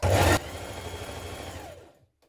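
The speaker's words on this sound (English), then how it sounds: "Now we're going to stitch this with a 1 centimetre seam" Sewing machine stitching a one-centimetre seam on a coat: a short loud burst of motor whir, then a lower steady running hum that fades out near the end.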